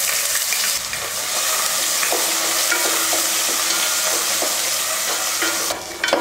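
Finely chopped small shallots frying with curry leaves and cloves in a pan, a loud continuous sizzle with soft intermittent stirring scrapes throughout, no voices.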